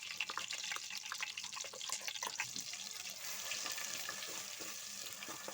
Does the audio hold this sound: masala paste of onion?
yes